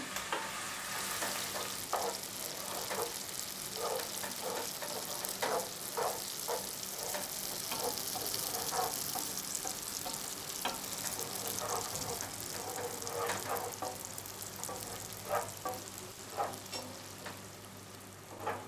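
Onion sizzling and frying in hot oil in a pan while being cooked down until browned, a steady bright crackle with repeated stirring scrapes and clicks throughout, fairly close and moderately loud with no talking.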